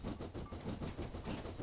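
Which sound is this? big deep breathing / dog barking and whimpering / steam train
steam train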